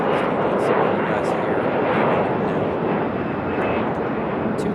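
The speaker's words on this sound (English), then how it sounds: "That American Eagle is headed to LaGuardia." American Eagle regional jet operated by Republic Airways at Raleigh-Durham airport, bound for LaGuardia, producing a steady loud broadband engine roar throughout, with people talking over it.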